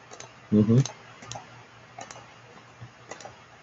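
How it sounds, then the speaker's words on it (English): A computer mouse gives a few faint, sharp clicks scattered through the stretch, one pair close together. A short low thump comes early, and there is light room noise but no clear talk. "I'm double clicking unintentionally."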